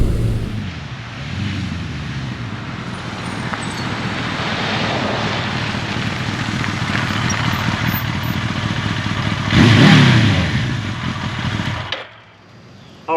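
Suzuki GS1100E and Kawasaki Eliminator motorcycles riding, a sustained loud engine roar with wind noise that swells to a peak as one passes close, then cuts off abruptly.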